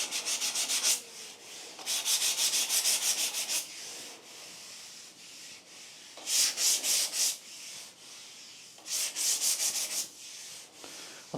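Hand sanding of body putty on a crash-damaged MGA car body panel, close-up scratchy rubbing strokes in bursts with short pauses between, no talk.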